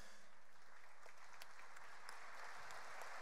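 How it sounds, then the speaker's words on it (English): Applause from an Outfest film screening audience for a cast member: a steady wash of many hands clapping, fairly distant and even, with no talk over it. "If she did, I want to make sure to give her applause."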